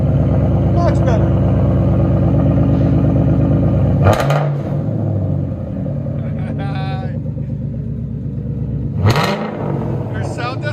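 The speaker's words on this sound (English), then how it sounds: "Ford Mustang GT rear muffler delete with DYNOMAX race bullets and active exhaust delete." A 2019 Ford Mustang GT 5.0L V8 with rear muffler delete, Dynomax Race Bullets and X-pipe rumbles loudly at idle, then revs sharply twice, each rev a quick rising blast, with voices talking close by throughout.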